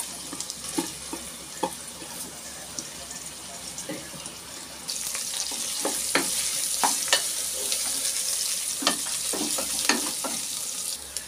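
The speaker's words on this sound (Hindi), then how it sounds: "हमने प्याज को एक दो तीन मिनट इसमें अच्छे से फ्राई कर लिया" Two medium onions sizzle and crackle in hot oil in a pan, with a steady hiss and scattered clinks of a spoon stirring.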